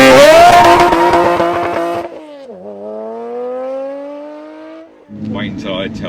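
Toyota MR2 fitted with a swapped-in 3.5 V6 engine, loud and close, revving hard with rising pitch for two seconds, then a steadier climbing drone as it pulls away. A rougher burst of engine noise follows at the end, with no talk over it.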